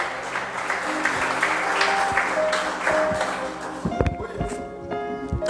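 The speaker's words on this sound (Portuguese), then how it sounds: "Aplauda ao Senhor em nome de Jesus." Church congregation applauding the Lord during a Portuguese-language sermon: a dense, steady wash of clapping over a low musical drone for about four seconds, then thinning into sparse louder claps and tonal sounds.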